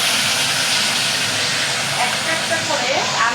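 Katla fish fried in hot oil, a steady, loud, broadband sizzle and hiss that holds unbroken throughout.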